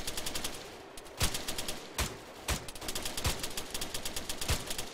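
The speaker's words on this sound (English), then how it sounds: "Shooting." Rapid bursts of automatic gunfire in a video game, sharp repeated cracks in quick rhythm, broken by several louder single shots, loud and close throughout.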